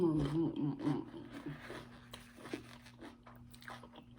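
Crunchy bites and chewing of fresh cucumber used as a spoon with rice, loud and close at first, then quieter irregular chewing with some talk over it.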